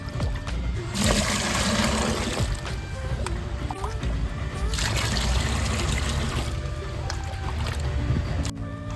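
Water pours and splashes steadily into a tub, loud and close, in two long gushing bursts with brief pauses.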